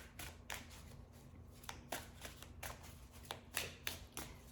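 Tarot cards being shuffled by hand: a quiet series of soft riffling bursts and light slaps in an irregular rhythm, close up and alone without talk, over a faint steady background hum.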